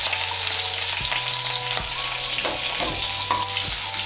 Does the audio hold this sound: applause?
no